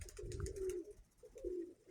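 Pigeons in a fancier's loft coo in two soft, low, drawn-out calls, faint and close, with light rustling and no speech.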